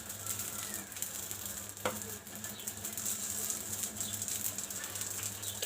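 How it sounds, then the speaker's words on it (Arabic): Mini batbout dough discs cook in a frying pan lightly coated with a few drops of oil, giving a steady, soft sizzle with faint hiss throughout, plus a brief clatter near the start. "كنتزقوا هاد الشيته بالزيت غير قطيرات صافي ونطيبوا عادي"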